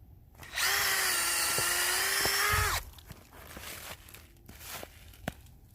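A power drill whines steadily for about two seconds at close range, drilling into a tree to tap it for syrup, then stops, leaving faint rustling and a few soft knocks.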